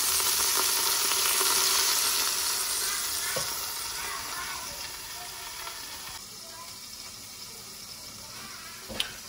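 Duck pieces brown in an Instant Pot, a loud, steady sizzle that slowly fades over several seconds, with a couple of sharp utensil knocks and a final clack near the end; no talking.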